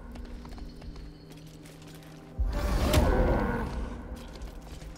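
A cow lets out a single loud, drawn-out low moo lasting around two seconds in Baldur's Gate III, rising out of quiet background ambience and fading away.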